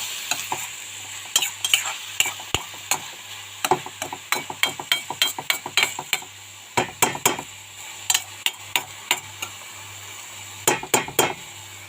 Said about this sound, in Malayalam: നമുക്കിത് ഇളക്കി കൊടുക്കാം ഇതിനകത്ത് വെള്ളമൊക്കെ ഇറങ്ങിയിട്ടുണ്ട്